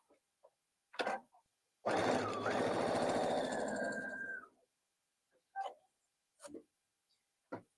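A sewing machine runs one continuous burst of stitching for about two and a half seconds, sewing fabric pieces together for a memory bear. Scattered clicks and handling taps come before and after the run.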